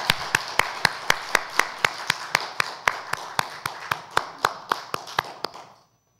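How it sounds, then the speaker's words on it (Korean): A church congregation claps together in a slow, even unison beat, about twenty sharp claps roughly a quarter second apart, loud and close in a reverberant hall before fading out. "하나님께 영광의 박수 올려드립니다."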